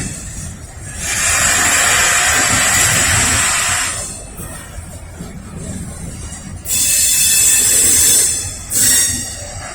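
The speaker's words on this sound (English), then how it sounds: "It's a westbound intermodal coming across the connector from the Montview line." A Norfolk Southern westbound intermodal freight train passes on the connector from the Montview line in Lynchburg, Virginia, giving a loud steady rumble with hissing wheel and rail noise that swells, eases, then surges again.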